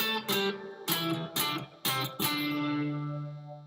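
An electric guitar plays a short riff of five struck chords, evenly spaced at first, with the final notes slowed and the last one left ringing out, played alone.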